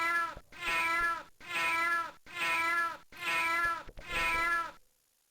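Cat screeching in the 1993 adventure game King's Quest VI, five loud drawn-out yowls in a steady sequence separated by brief gaps, then silence.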